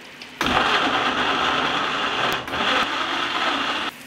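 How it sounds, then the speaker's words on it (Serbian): A kitchen blender grinds chopped tomatoes, its motor whining loud and steady, with a brief dip midway and an abrupt stop near the end, no talking. "Poklopit ću i samleću paradajz."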